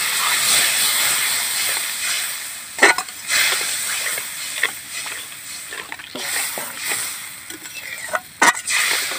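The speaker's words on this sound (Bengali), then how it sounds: "অল্প করে একটু জল দেব" Water poured into a pan of frying spices for a village-style matar paneer, giving a loud, steady steaming hiss with occasional sharp crackles and stirring sounds, close up and without speech.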